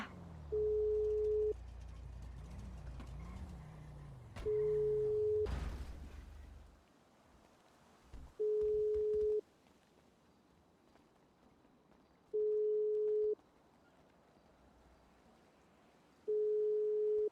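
In GTA V, an unanswered phone call produces a steady repeating tone, five evenly spaced beeps about a second long with quiet gaps between them, preceded by faint game noise and a brief thump.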